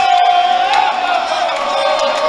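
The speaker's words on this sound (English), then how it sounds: "Just listen to this crowd." Loud basketball crowd in a college gym at a YU Macs versus Mount Saint Mary game, roaring and whooping in one continuous swell with a shrill voice rising above it.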